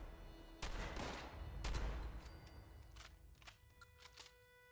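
Shotgun blasts in the game Fallout 76, a few loud sharp reports ringing out at irregular intervals with a string of fainter shots trailing behind, no talk.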